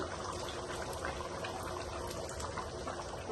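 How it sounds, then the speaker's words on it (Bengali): Water poured into a pot of boiling dal curry gives a steady, close, dense liquid rush and bubbling that holds without a break and has no talk over it. "আমি আর একটু ওয়াটার দিব"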